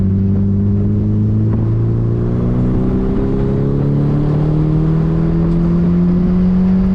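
A Nissan Silvia race car on a circuit roars loudly and steadily at close range, with harmonic engine pitch stepping and sliding as revs change through a downshift from third to second into a corner.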